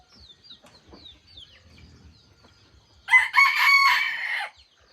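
A breeding rooster crows once, loud and close, a long drawn-out call after a few seconds of quiet background clucking and faint bird chirps.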